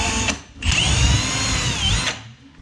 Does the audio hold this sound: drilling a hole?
yes